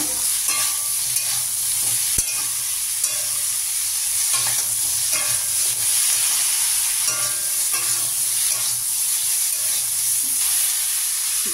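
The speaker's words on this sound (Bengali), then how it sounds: "এখন এই দিয়ে দিচ্ছি লবণ, হলুদ গুঁড়ো, মিশিয়ে নেব।" Tender ridge gourd is stirred in a pan with salt and turmeric, with a steady loud sizzle of frying and repeated scraping strokes of the spoon throughout, close up and without talk.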